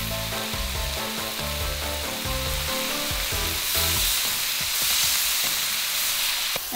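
Ginger hits a hot wok while cooking chilli chicken with garlic, a loud steady sizzle with scraping and tossing clatter from the spatula throughout.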